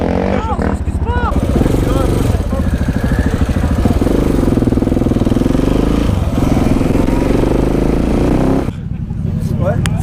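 A stunt motorcycle engine runs loud and close at a street spot, a rough continuous rumble with rising and falling revs. Voices talk over it throughout.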